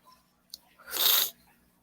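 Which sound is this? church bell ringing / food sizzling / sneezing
sneezing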